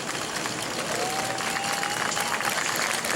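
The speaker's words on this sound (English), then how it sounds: "Give him a round of applause" Spectators at a New Smyrna race track applaud a driver walking away from a crash, a moderate continuous patter of clapping and crowd noise with a brief whistle-like tone in the middle.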